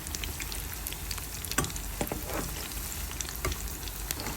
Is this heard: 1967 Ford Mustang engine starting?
no